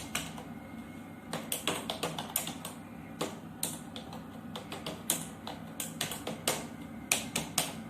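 Steady, fast typing on a computer keyboard while writing a document in MS Word, with light, close key taps in an even stream and occasional harder strikes.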